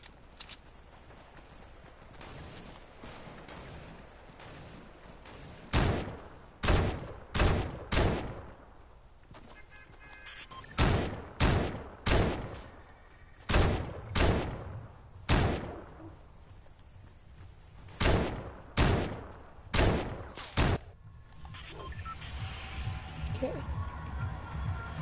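Thermal-scoped assault rifle in a video game firing in a series of sharp, loud single shots, some in quick bursts of two to four with gaps between, over a low ambient rumble.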